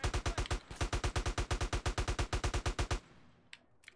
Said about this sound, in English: I can just shoot these guys right here